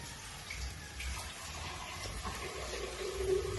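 Water is poured into a pan of sauteed pinakbet, a steady running, splashing flow at moderate loudness that swells slightly toward the end.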